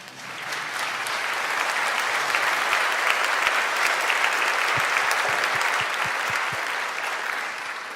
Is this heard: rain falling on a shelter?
no